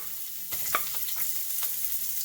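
Garlic and ginger frying in a few tablespoons of oil in a big sauté pan, giving a steady soft sizzle with a few light clicks of stirring, close by and with no talking.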